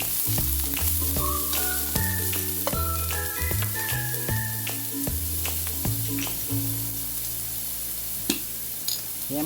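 Ginger sizzles and fries in a pan while making arroz caldo, a steady crackling sizzle with occasional stirring knocks, close and alone.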